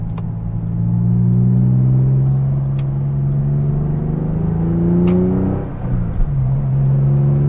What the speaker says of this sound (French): Ça, c'est un bruit de moteur à plat.